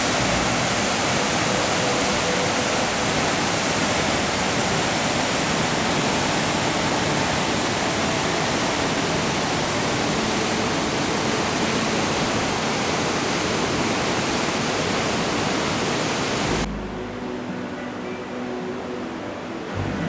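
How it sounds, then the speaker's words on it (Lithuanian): The Krimml waterfall in Austria roars with a dense, loud, unbroken rush of falling water that stops abruptly near the end, leaving a quieter hiss. "Pagaliau pasimatė krioklio viršūnė"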